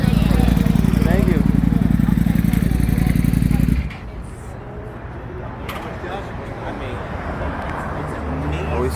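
A motorcycle engine roars loudly and steadily for about four seconds, then cuts to a lower, rougher running sound that slowly builds again, with no talk over it.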